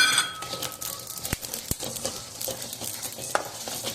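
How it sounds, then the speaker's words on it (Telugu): Poppy seeds roasting in a pan, stirred with a metal spoon, making a light dry rustle and faint sizzle with a few sharp clinks against the pan. "ఇప్పుడు గసగసాలు వేసుకుందాం."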